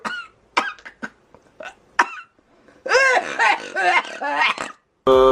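A female animal gives a series of sharp, hoarse coughs and throaty hacks after eating chili, then a rough rasping burst of sound, close and loud.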